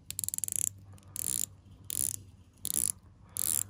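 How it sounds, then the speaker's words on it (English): Rapid clicking of a Swiss-made dive watch's unidirectional 120-click bezel being turned, heard as close, crisp bursts of ratcheting clicks separated by short pauses, five runs in a row. "A really good bezel action. We have 120 clicks,"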